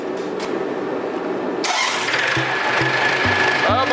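John Deere 1070 diesel tractor cranking, then catching and firing up after a clutch replacement, rough rhythmic pulses settling into a loud close idle, with background voices.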